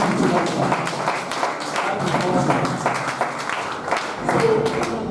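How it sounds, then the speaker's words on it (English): An audience at an indoor seminar gives a round of applause, dense irregular clapping with a few louder individual claps, continuous and close, with faint voices mixed in. "They have applause for him again."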